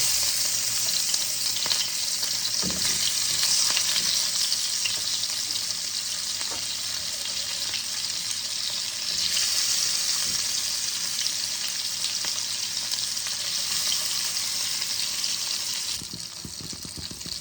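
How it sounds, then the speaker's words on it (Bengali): Koi fish frying in hot oil in a wok, a loud steady sizzle that runs unbroken throughout, easing slightly near the end. "কড়াতে আমি তেল দিয়ে দিয়েছি, এবার আমি কই মাছগুলোকে ভেজে নেব।"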